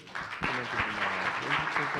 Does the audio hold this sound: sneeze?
no